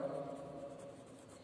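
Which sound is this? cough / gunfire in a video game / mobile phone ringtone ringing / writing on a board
writing on a board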